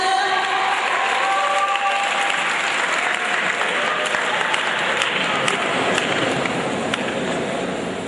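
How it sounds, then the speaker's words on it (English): An audience at a school Founders Day prize ceremony applauds continuously and loudly, a dense, even wash of clapping that holds from start to finish. "Give them a round of applause."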